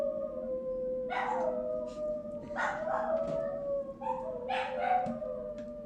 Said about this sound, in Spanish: cuando toca su campanita los perros se ponen a aullar